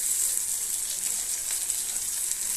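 Turmeric, cumin and coriander powder sizzling in hot oil for a Bengali fish curry, an even, bright hiss held steady throughout with no voices.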